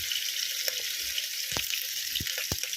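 Diced bottle gourd fries in a pan, giving a soft, steady sizzle broken by a few sharp clinks or taps of a spoon against the pan.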